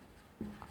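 A marker squeaks once, briefly, across a whiteboard during a class six geometry lesson on circles, a short faint stroke in an otherwise quiet room.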